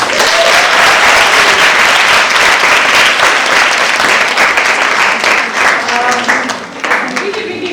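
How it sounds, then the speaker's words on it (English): Loud, dense applause from an audience honoring student peer mentors at a university admissions and scholarship session, continuous and close, thinning slightly near the end as a voice begins to speak over it. "Let's give them a round of applause."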